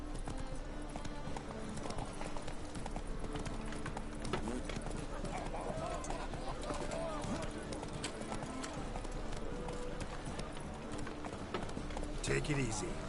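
Roach, a horse in The Witcher video game, trots along with steady clip-clop hoofbeats beneath continuous game ambience and a voice.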